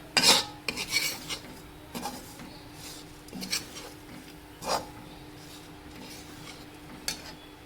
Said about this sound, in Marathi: खारीक भाजून घेत आहे